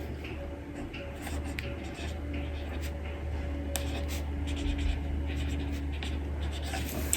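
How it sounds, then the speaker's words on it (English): A permanent marker scratching across plant labels in a garden, a continuous close scribbling with short strokes and pauses over low background hum. "just simply write it on. I'm using a permanent marker."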